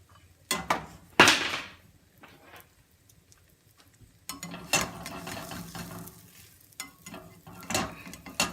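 Bread fries in a pan before an egg goes in, with sharp scraping and clattering bursts of a utensil against the pan, then a softer continuous sizzle broken by more knocks.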